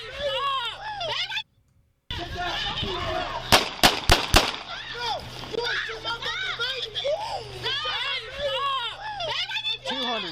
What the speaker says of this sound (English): Shots fired. 200 shots fired.